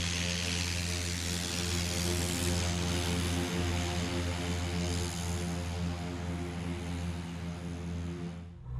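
Light aircraft propeller engine throttling up as it begins to taxi, a loud steady droning hum with strong harmonic layers and a brief thump, heard close and alone before fading at the end.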